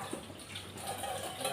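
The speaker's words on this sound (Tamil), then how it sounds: "ஸ்லோவாக குழா திறந்து வச்சுக்கணும்." A kitchen tap opened slowly for washing dishes lets water trickle and patter softly, a faint, close, steady flow lasting only a moment.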